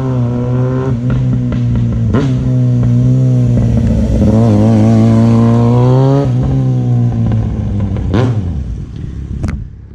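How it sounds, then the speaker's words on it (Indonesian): A Yamaha XJ6N motorcycle engine revs loud and close, pitch rising and falling through throttle changes, with sharp brief cracks near the end that suggest exhaust pops on throttle release. "Yang korang dengar tadi macam tu lah bunyi dia letup-letup time aku bawa motor tadi"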